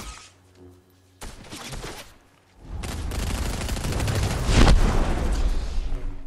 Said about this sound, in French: Fais gaffe, ça tire.